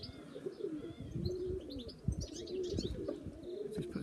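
Young pigeons coo softly and steadily outdoors late in the evening, with faint chirps and occasional wing flaps over a continuous low background.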